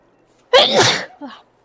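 A single sharp human sneeze, close and loud, with a quieter trailing breath just after it.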